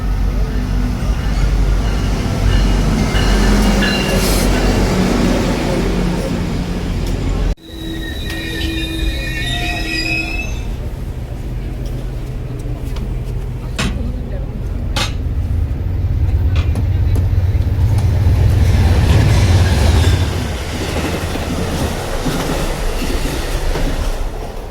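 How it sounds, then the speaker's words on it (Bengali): A near-empty GO commuter train runs out of Mississauga, filling the car with a loud, steady rumble; shrill wheel squeals rise and fall for several seconds, followed by scattered clicks and rattles over the track noise. "ঢুকে গেছি ট্রেনের মধ্যে, আর আজকে যথারীতি ফাঁকা ট্রেন।"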